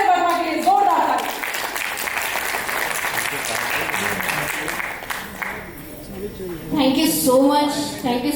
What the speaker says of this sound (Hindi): जोरदार तालियां प्लीज बजाइए हमारे यूपी से सुषमा देव वर्मा के लिए